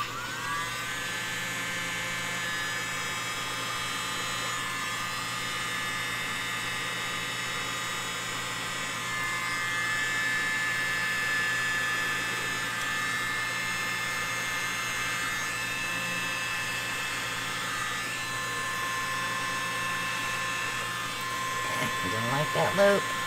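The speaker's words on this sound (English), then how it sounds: "I think I'm going to do it with the little blower, so I have more control" A small electric air blower runs steadily throughout with a constant whine, hum and a few faint tones, the sound close and even, with a brief louder handling rustle near the end.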